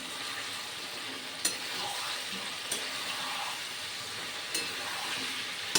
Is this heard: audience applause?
no